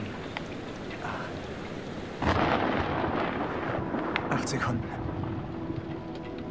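Steady rain and rumbling thunder from a thunderstorm in the video game Man of Medan swell louder partway through, with a voice speaking over the storm.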